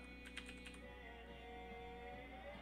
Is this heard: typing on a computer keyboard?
yes